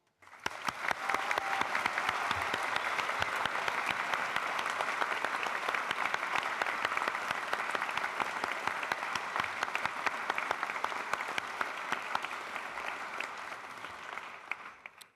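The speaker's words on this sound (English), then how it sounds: "show their appreciation for Lord Stafford, our Chancellor, with a second round of applause" Sustained applause from a large audience at a Staffordshire University graduation ceremony in 2023, a dense, even wash of many hands clapping in a hall that carries on for the whole stretch and fades slightly at the end.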